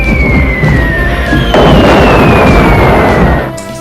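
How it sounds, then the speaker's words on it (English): Loud rumbling explosions roar continuously, with a falling whistle of a descending bomb cutting across and a heavier blast surging midway before the noise fades at the end, like air-raid bombing. "Hitler uses air raid."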